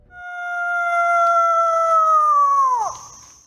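A hunter with hands cupped around his mouth lets out one long, loud coyote howl in a forest. It holds a steady pitch, then bends downward and breaks off near the end. A human voice is imitating a coyote.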